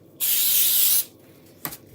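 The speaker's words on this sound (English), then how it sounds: "I have just a light adhesive spray" A single hissing burst of light adhesive spray is spritzed onto a chalk board, close and bright for about a second, followed by a faint click.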